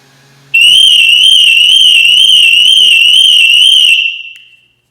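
A BMW X5's loud, steady high-pitched electronic alarm tone with a fast warble, set off by the hatch button, sounds for about three and a half seconds, then fades out.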